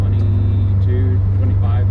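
A steady, droning Volkswagen Vanagon engine hum with a K24A engine swap holds at a constant 4,000 RPM, loud and close, with a voice talking over it.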